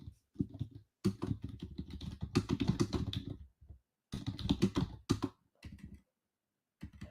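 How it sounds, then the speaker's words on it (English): Rapid keyboard typing at a computer, dense bursts of clicky keystrokes in several runs separated by short pauses, close and fairly loud. "right there, I'm typing in chat."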